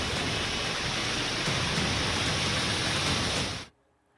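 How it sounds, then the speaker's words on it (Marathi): Heavy, steady rain pours in a continuous dense wash of noise, loud and unbroken for several seconds before cutting off abruptly near the end; no voices. "आज सकाळपासून पाऊस सतत पडतो आहे"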